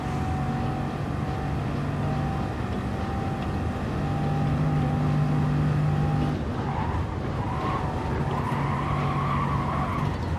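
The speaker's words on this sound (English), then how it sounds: "They did a decent job with the Aventador sound in this game." Lamborghini Aventador engine in a racing video game during a Nürburgring Nordschleife practice race: a steady, loud, sustained high-revving drone with tonal whine, shifting pitch near the end, with no talk.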